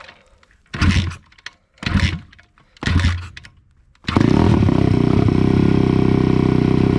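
Motorcycle kick-started with the left foot: three separate scraping, sputtering kicks with short quiet gaps, then the engine catches and settles into a loud, steady, close idle.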